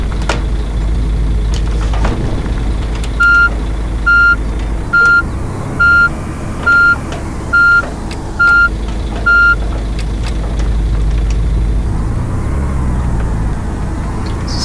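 A coach bus in the Fernbus Simulator game backs up with a steady series of loud, evenly spaced reversing beeps over a rumbling diesel engine, then keeps driving on with the engine droning, no voices.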